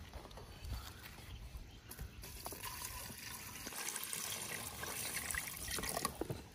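Something is washed under running water outdoors while a meal is cooked during a day of herding cattle. A faint, steady trickle and splash of water runs throughout.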